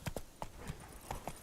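Roach, a horse in The Witcher 3, clip-clops in a quick uneven rhythm of hoofbeats. The hoofbeats are faint and brief, with no voices over them.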